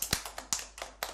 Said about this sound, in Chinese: 让我们把掌声给他们